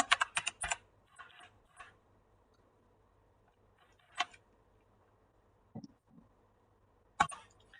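Computer keyboard typing at a Bash shell prompt: a quick burst of clustered key taps, then scattered single clicks and a final short flurry, close and fairly quiet with no talking.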